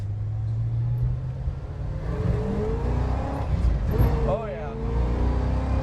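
A 1965 Pontiac GTO accelerates nearby, its engine rising in pitch as it pulls away, loud and steady under brief talk from people in the car.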